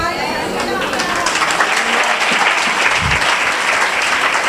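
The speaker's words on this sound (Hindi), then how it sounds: "तालियां तो बजा रहे हैं" A church audience applauds steadily and loudly for several seconds, a dense wash of clapping with the crowd murmuring underneath.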